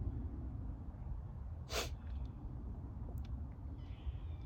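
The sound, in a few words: sneeze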